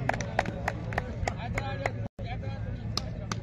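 Spectators at an outdoor volleyball show match in Kharian clap in sparse, uneven claps, with a voice talking over the claps throughout and one brief dropout near the middle.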